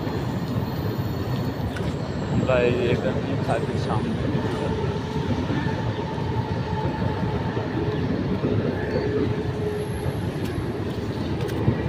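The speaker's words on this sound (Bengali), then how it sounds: "ট্রেন যাচ্ছে।" A local train runs along a line across an empty early-morning road, making a steady rumble with brief wheel squeals. A person talks over the noise.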